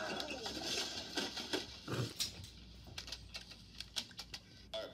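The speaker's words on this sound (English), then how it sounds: "Tell me what you hear. Dogs." Sharp, scattered barks from dogs at some distance, mixed with clicking and other background noise, with no talking.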